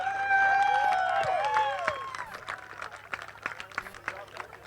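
A crowd at a late model stock car race cheers loudly with whoops and whistles, then settles into scattered clapping and murmuring chatter as the noise dies down.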